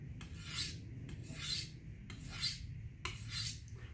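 A chef knife is sharpened on a whetstone with four steady, evenly spaced rasping strokes, each one a close, rhythmic scrape of steel across the stone, with no voices.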